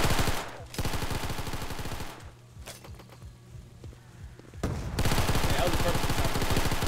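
Rapid bursts of automatic gunfire from a Roblox shooter game, loud and dense at the start and end with a quieter stretch of sparse shots in the middle.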